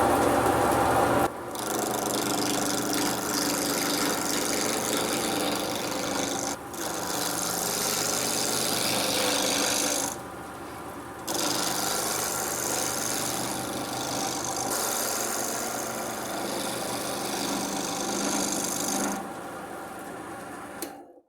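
Wood lathe spinning a sticky fatwood coffee scoop blank with a sharpened tool cutting it, giving a steady close whirring hum with scraping cuts, broken by a few short pauses as the tool lifts away.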